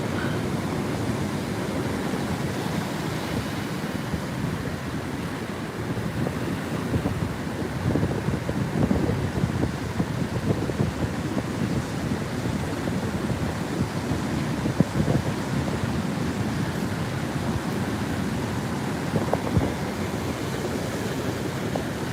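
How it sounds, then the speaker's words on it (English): Ocean surf crashes steadily under gusting wind on the Gulf Shores, Alabama coast during Hurricane Sally, a dense, continuous roar of breaking waves and wind buffeting the microphone, with no talking. "So quite a few waves coming up."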